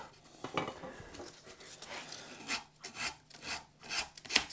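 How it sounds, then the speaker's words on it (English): Hand file rounding over the edge of a wooden guitar body, a few separate rasping strokes that grow stronger toward the end, close but fairly quiet, with no talk. "just a few kind of strokes with a file will kind of give us the round over that we need"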